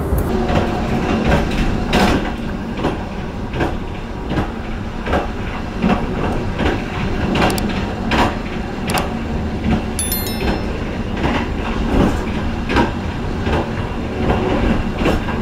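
Interior of the Direct Train running from Semarang to Jakarta: a steady rumble of the moving carriage with rhythmic rail clicks and occasional knocks, heard alone at an even, moderate level.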